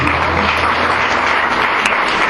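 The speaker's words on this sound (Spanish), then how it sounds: "Vamos a darle un fuerte aplauso al Señor." A church congregation claps loudly for the Lord, a dense and steady wash of applause from a crowd in a hall that fills the whole moment.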